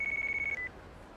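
Phone ringing in the Yakuza Kiwami video game: a steady electronic ring tone repeating in quick pulses for about half a second, then a short higher blip before it cuts off, clear over a quiet game background.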